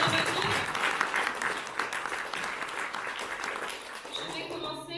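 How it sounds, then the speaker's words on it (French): An audience at a live maths-versus-geology comedy match applauds steadily, a thick wash of many hands clapping that holds for several seconds and tapers slightly near the end, with faint voices beneath. "Vous pouvez les applaudir."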